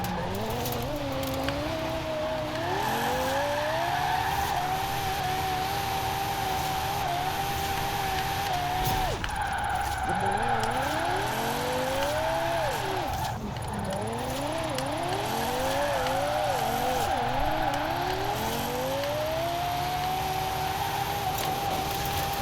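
A drift-tuned Lexus IS F of nearly 1300 hp cruises in second gear, its engine note rising and falling steadily through gentle throttle sweeps, loud and continuous from inside the car with no talk.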